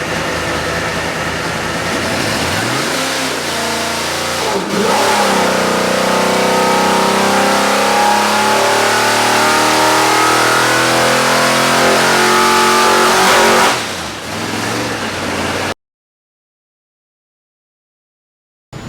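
A rebuilt Pontiac 455 V8 with 9.5:1 compression, forged rods, forged pistons and a new camshaft revs loudly in a 1970 LeMans, climbing through several throttle blips and sustained rises before dropping away and cutting off.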